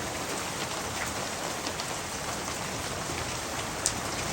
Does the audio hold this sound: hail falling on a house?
yes